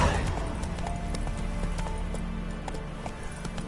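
Horse galloping in The Witcher 3 video game: a steady, rapid rhythm of hoofbeats at moderate distance over a continuous low rumble of in-game ambience, with no talk.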